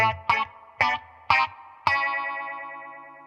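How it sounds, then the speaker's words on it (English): Electric guitar run through a Warm Audio Mutation Phasor II six-stage phaser pedal with controls at noon: four quick picked notes, then a chord left ringing with a sweeping, swirling tone that slowly fades. "And this is with the phaser."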